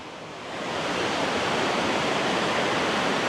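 Pontneathvaughan waterfall in Wales, a fierce rush of water roaring as a dense, steady wash that swells up within the first second and holds loud and close with no voices.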